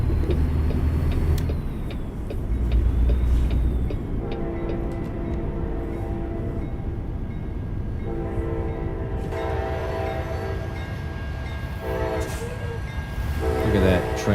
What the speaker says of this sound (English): Look at that train, that long train we have here.